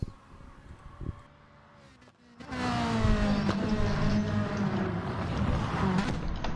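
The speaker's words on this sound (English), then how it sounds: "time for some engine and driver noise" Game race car engines: a quieter motor hum, a brief lull, then a loud sustained high-revving roar that stays strong to the end.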